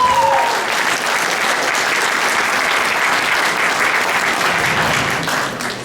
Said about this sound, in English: So let's give CSM a round of applause.